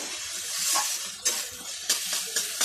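Ground dried chili paste and spices frying in oil in a pan, a close steady hiss with a few sharp scraping strokes of a spatula near the end.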